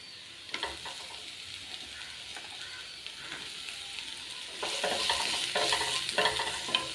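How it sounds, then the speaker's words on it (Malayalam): Onions sautéing with garlic, ginger and green chilies hiss in a pan under repeated scraping stirs, the sizzle swelling louder and busier toward the end, close-up and without talking. "അതിൻ്റെ കൂടെ പച്ചമുളകും ആഡ് ചെയ്യാം നന്നായിട്ട് ബ്രൗൺ കളറിൽ വഴണ്ട് വരുന്നത് വരെ ഇളക്കണം"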